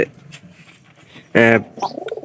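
Free-range domestic pigeons give one loud, close, throaty coo that lasts about a quarter second, set against quieter background sounds and fragments of a voice.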